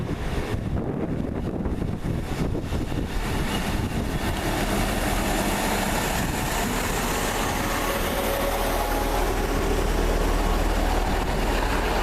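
A biomass freight train rumbles past close by, a heavy continuous roar with rattling wheels, mixed with buffeting wind noise on the microphone.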